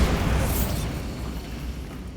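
A Bombarda blasting spell goes off in Hogwarts Legacy, a loud, close, low booming burst that opens strongly and rumbles on steadily for about two seconds without fading much.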